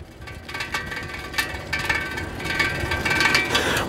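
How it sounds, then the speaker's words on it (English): A three-speed Dutch-style Mustang Oscar city bike with a coaster brake gives off light metallic clicks and ticks from its gear hub while riding, scattered and irregular over a low wind rumble. "Three speeds making a clicking thing."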